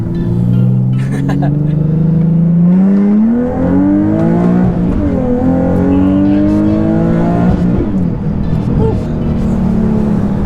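A tuned Nissan 370Z accelerating hard, its engine note climbing through rising revs with gear changes, loud and close from inside the cabin, with people talking over it.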